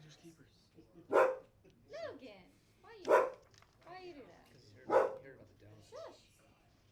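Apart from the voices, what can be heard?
dog barking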